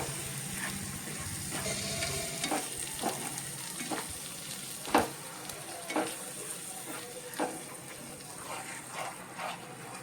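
Yogurt masala for paneer bhurji sautés in a pan with a steady, hissing sizzle, broken by repeated scraping and knocking strokes of a spoon stirring the mixture at close range.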